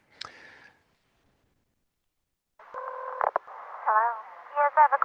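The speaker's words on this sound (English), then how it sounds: "I'm going to run you another phone patch here." Amateur radio phone patch call from Vietnam, recorded at Christmas time: a short burst of tone and static, a pause of silence, then warbling, tonal radio audio with sharp pops and shifting squeals running to the end.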